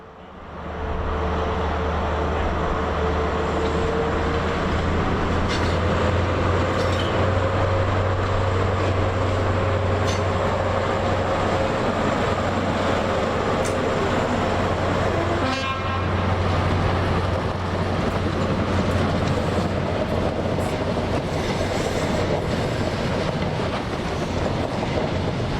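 An HST diesel train departing York for Aberdeen, engines droning steadily with rhythmic wheel clatter over rail joints and a brief horn toot, heard close for a long, continuous stretch.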